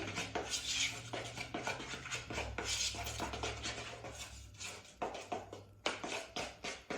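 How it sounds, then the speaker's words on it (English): Purple gel colour being stirred into a small portion of icing, a steady run of close scraping and tapping strokes against a container with a low hum underneath. "So I'm just going to stir"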